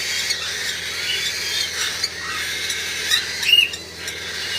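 A young cockatiel gives shrill squawks and squeals, sharpest near the end, over a steady background hiss, close by with no one talking.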